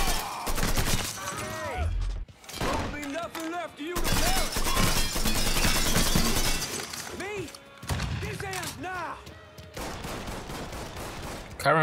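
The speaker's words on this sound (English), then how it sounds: "Carry on shooting, mate." Bursts of video-game gunfire from Mafia 3 Definitive Edition in a loud construction-site firefight, rapid volleys with shattering impacts and gaps, mixed with game voices.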